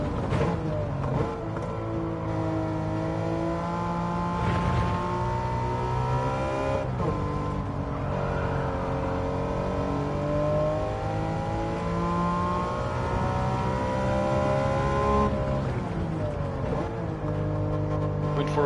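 A Porsche Cup race car in Gran Turismo 7 revs hard through the gears, its loud engine whine climbing in pitch and then dropping sharply at each upshift before it slows for heavy braking.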